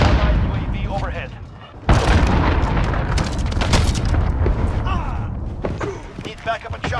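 A cruise missile explosion in Call of Duty hits with a loud broadband boom near the two-second mark. Dense battle noise and gunfire follow, with voices talking over the din.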